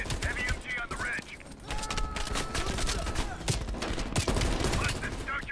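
Heavy machine gun fire from a ridge position during a Call of Duty: Black Ops Cold War campaign mission, rapid bursts of gunshots mixed with other battle noise and voices talking over the fighting.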